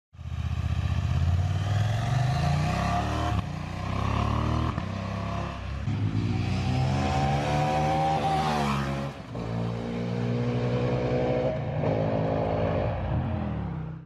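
KTM 790 Adventure motorcycle ridden on the road, its engine loud and close, revving up and dropping back through repeated gear changes with brief dips between pulls, no talking.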